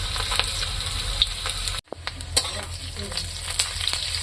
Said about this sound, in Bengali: এখন আমি দিয়ে দেব ফোড়নে পাঁচফোড়ন